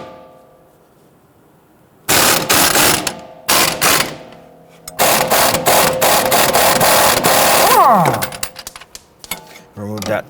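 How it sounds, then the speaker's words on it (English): A hand ratchet fitted with a 21mm socket loosens a sway bar end link nut on a Dodge Charger, with loud bursts of rapid clicking separated by short pauses and a brief whine near the end. "we're going to use a 21mm socket to loosen and remove our sway bar end link nut"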